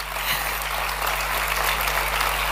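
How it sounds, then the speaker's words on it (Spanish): A crowd gives sustained applause for a guest at an event, steady dense clapping throughout over a low constant electrical hum. "Fuerte el aplauso a Ramón."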